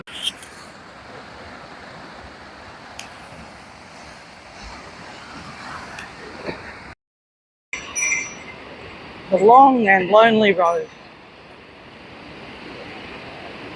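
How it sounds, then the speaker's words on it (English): Pacific surf rolls steadily along a coastal road in Japan, a broad wash mixed with wind buffeting the microphone. There is a brief dropout partway through, and someone speaks a few words over it. "Sound of the waves."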